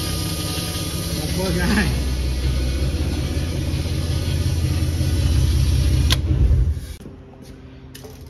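A Class 7 race truck built from a Ford Ranger, its engine running with a steady low rumble and a whining fuel pump, a voice speaking briefly over it before the engine cuts out near the end.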